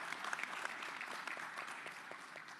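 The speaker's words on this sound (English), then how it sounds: "yes, round of applause" Audience applause at a tourism forum honouring a minister, dense steady clapping from a seated crowd, fairly distant and soft, continuing throughout.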